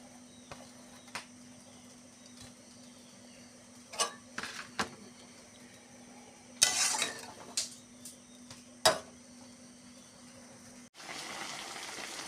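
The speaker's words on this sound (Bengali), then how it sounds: "এবারে ভাজা উচ্ছেগুলো এর উপরে দিয়ে দেবো।" Fried bitter gourd is tipped into a simmering potato and eggplant curry in a pan: scattered light clatters and spoon knocks over a soft hum, then a broad wet rush at the close.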